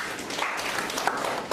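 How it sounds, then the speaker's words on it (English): Brief burst of audience applause at a certificate programme launch ceremony, moderate clapping from a seated crowd lasting under two seconds. "Clap for yourself."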